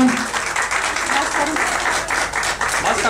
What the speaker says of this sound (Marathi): टाळ्या वाजवा जोरदार.